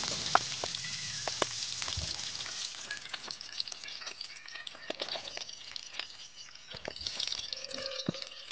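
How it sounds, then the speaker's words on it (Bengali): Pieces of katla (rohu-type carp) fish frying in hot oil in a kadai, a steady close sizzle with scattered crackles and spits throughout, no talking. "আবারও মাছগুলো ছেড়ে দিয়েছি গরম তেলে।"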